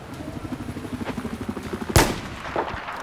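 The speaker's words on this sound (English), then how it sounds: "Someone's shooting at me, and I don't know." Rapid automatic gunfire in Battlefield 4 on the Paracel Storm map, a fast rhythmic burst of shots for two seconds ending in a loud blast, followed by a smaller thump.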